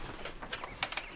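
Peacocks calling at an off-grid homestead during morning feeding, a few short bright cries rising over faint background sound.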